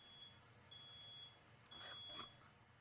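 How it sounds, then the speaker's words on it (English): A fire alarm sounds indoors as a faint, steady high-pitched tone broken by short gaps, with some dull background noise and no talk over it. "Can you hear the fire alarm?"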